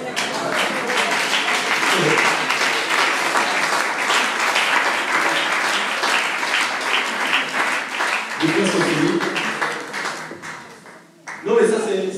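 A church congregation applauds continuously, a dense wash of clapping that stays loud throughout, with voices calling out underneath and a brief dip near the end before it picks up again.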